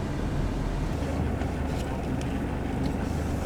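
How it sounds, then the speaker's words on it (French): Strong storm wind at North Cape roars steadily against the microphone, a constant low rumble with gusting buffets throughout. "Par contre il y a un vent énorme"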